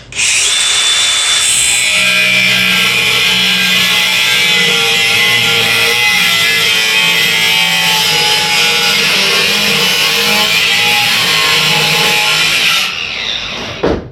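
Loud, sustained whine of an angle grinder cutting through a tractor axle in a workshop, steady high-pitched grinding for about thirteen seconds before winding down.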